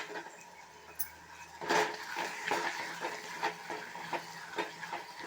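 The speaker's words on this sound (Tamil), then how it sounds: "இப்போது வதங்கின தக்காளி வெங்காயத்தில் இந்த வத்தலை போட்டு நல்லாவே வதக்கிடலாம்." Dried vathal is stirred into fried tomato and onion in a pan, giving a soft sizzle with repeated scraping, stirring clinks of a utensil against the pan, quiet and steady.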